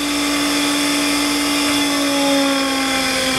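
A Myford MG12-M grinder's internal (ID) grinding wheel spins at high speed, a steady loud whine with a strong sustained tone and broadband hiss running unchanged throughout, no voices.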